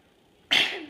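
One sudden, sharp sneeze right up close, bursting out of near silence and trailing off quickly.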